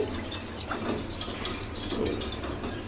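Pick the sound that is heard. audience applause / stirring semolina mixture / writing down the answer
stirring semolina mixture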